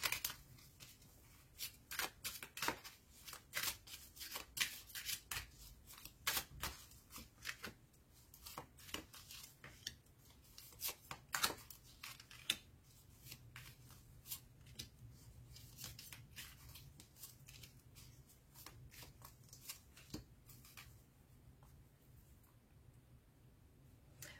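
Oracle cards are shuffled for a reading, a long run of quick, soft paper flicks and clicks in irregular bursts, close and quiet, without speech.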